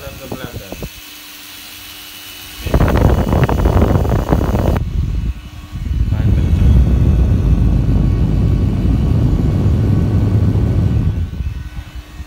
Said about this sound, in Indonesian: Ini lebih kenceng dari dinamo ini RPM-nya.